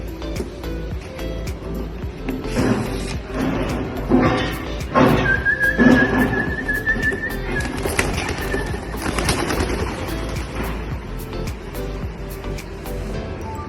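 Young pigeons return to their loft after a trial release, with cooing and fluttering wingbeats amid knocks and clatter, a passing engine hum and a faint background voice.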